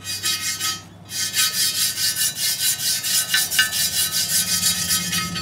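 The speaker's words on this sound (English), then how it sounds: "I'm gonna go ahead and use this brush to get most of the thick stuff out." A stiff brush scrubs thick dirt and rust grime off an aftermarket car wheel, giving rapid, even back-and-forth rasping strokes, loud and close, with a brief pause near the start.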